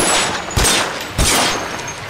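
Gunfire in the video game L.A. Noire, with a loud, steady run of bursts and two heavier shots standing out over the continuous crackle.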